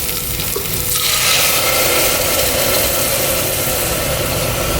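Ground masala frying loudly with cooked ginger garlic paste, onions and chilies for keto mutton biryani: a dense, continuous close sizzle with stirring scrapes and no talk.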